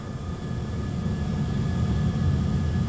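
An Airbus A320 rolls down a runway for takeoff, a steady loud engine roar with a deep rumble and a faint high whine holding constant throughout.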